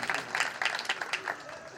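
A church congregation applauding a welcomed guest, a brisk scatter of hand claps at moderate distance with voices mixed in beneath the clapping.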